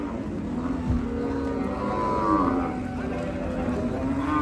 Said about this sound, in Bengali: খুব সুন্দর একটা ষাঁড় গরু আসতেছে, দেশি ষাঁড়, চমৎকার।